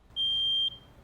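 A smoke alarm gives a single loud, clear high-pitched beep of about half a second, with a quiet room around it.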